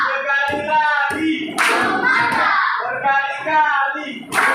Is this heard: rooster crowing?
no